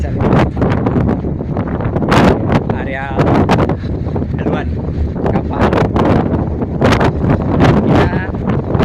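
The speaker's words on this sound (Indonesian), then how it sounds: "Kita sekarang berada di paling atas deck. Angin cukup kencang." Strong wind buffets the microphone on the open top deck of a Merak–Bakauheni ferry, loud gusty rumbling throughout while someone talks over it.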